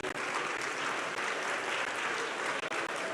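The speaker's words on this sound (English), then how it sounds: "Please applaud Miss Patricia Obunai." Crowd applause at the 75th anniversary launch ceremony of KNUST, greeting the CEO of Telecel; dense, steady clapping fills the whole stretch, fairly soft and distant, with a couple of brief dips near the end.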